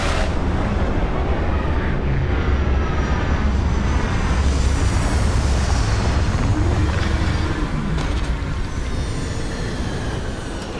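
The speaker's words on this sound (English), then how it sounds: "Captain, landing procedure initiated." Spaceship landing in the video game Starfield: a loud, steady roaring engine rumble with a rising whine that holds throughout and eases slightly at the end.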